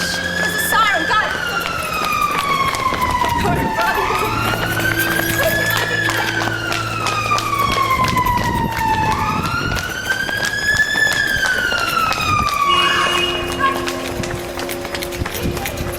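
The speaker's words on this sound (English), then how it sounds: "There's a siren, guys!" A wailing siren rises and falls in long sweeps, loud and close, over a busy street with hoof-like clatter and people talking.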